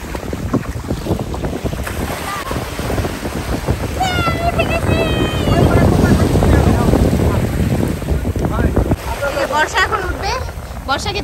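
A small dinghy boat crosses the open sea between Saint Martin and Chera Dwip, with heavy wind buffeting the microphone, churning water and waves, and people talking throughout.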